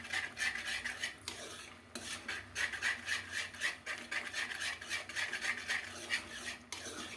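A spoon scrapes and drags around a pot in a steady back-and-forth rhythm, with the soft rasp of thick ulundu kali (urad dal porridge) being worked; no talking.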